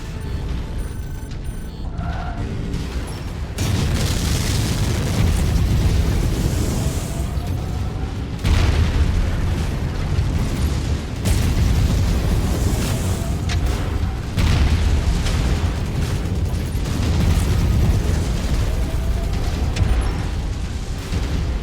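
Explosion of a destroyed tank in the MechWarrior 5 video game, a heavy booming blast over sustained rumbling combat noise, with more loud bursts and crashes following throughout.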